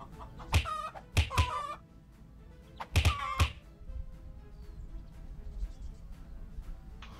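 Chickens cluck loudly in a knight video game, a few sharp squawking bursts in two clusters near the start and middle, then quieter background ambience.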